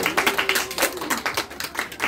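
A church congregation claps during a Sunday worship service, a steady run of sharp, overlapping hand claps at a brisk rhythm, fairly close and even in loudness, with no talking over it.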